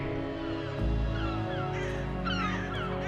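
Gulls cry in a bustling coastal town, several mewing, sliding calls rising and falling over a sustained musical drone, fairly close and layered.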